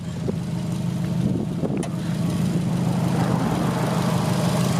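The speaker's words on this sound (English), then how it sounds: "So yeah, agency power exhaust." A 2008 Subaru STI with an Agency Power exhaust runs steadily, its low droning idle holding constant and loud with a brief rise partway through, traffic faintly mixed in.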